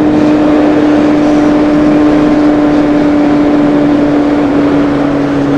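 Kawasaki Z750 motorcycle cruising at high speed, a steady loud engine drone with a sustained tone and heavy wind rush, continuous throughout with no speech.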